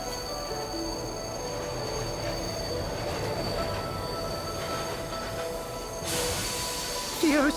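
A train arrives at a station in the cat puzzle video game Bright Paw: steady rumbling rail noise with squealing wheels, and a brighter hiss and high squeal as it brakes near the end.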